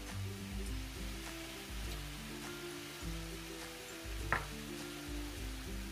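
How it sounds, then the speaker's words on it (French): Soy sauce mixture being stirred in a frying pan, a soft steady sizzle with faint spoon scrapes, quiet and close. "Et on mélange bien."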